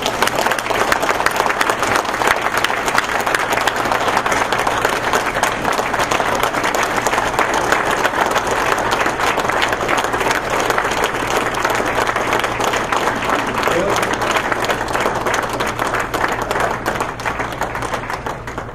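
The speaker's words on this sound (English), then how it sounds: "How about a round of applause?" Sustained applause from an audience at a city award ceremony honoring Rear Admiral William Stewart in Mobile, Alabama, a steady dense roar of many hands clapping for nearly twenty seconds, loud and continuous.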